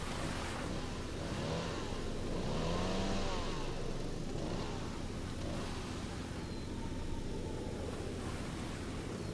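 Ski-Doo snowmobile engine in the video game Til Nord, a steady broadband roar held at constant loudness through the whole stretch, with faint rising engine tones near the start and no one talking.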